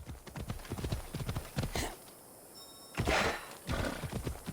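Horse hooves clip-clopping in the video game Assassin's Creed Odyssey, a quick rhythmic run of hoofbeats, briefly pausing then resuming, fairly close with no speech.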